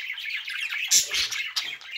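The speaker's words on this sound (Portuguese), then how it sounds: "As aves estão aqui perturbando aqui o filhote." Birds squawking and chirping close by around a chick in a bird-keeping yard, a dense run of sharp, shrill calls overlapping continuously with a few louder squawks.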